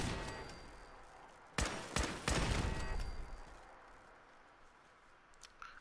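Video game turret gunfire in Fallout 4 rings out as a short cluster of loud bursts around the middle, with quieter game ambience before and after and no speech.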